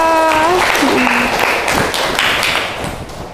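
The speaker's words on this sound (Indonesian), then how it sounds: "Oke, tepuk tangan untuk Ramadhana Eko." High school class applauding in a physics lesson, a dense burst of many hands clapping that follows a voice and fades toward the end, heard in a room.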